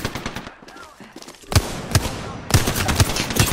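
Rifle fire in the shooter game Apex Legends, with several sharp shots and short bursts cracking at close range over a steady background of game noise.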